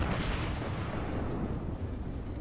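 A heavy battleship gun volley in World of Warships, a deep booming blast that rumbles and slowly fades over a couple of seconds.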